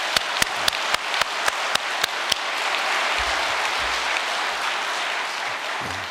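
A church congregation at a New Year prayer service applauds the world headquarters staff. A few sharp, evenly spaced claps ring out first, then a broad, sustained round of applause fills the room.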